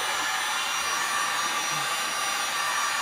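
A heat gun blows steadily while warming the edge banding on a new desk, a close, continuous airy roar with no pauses and no voices.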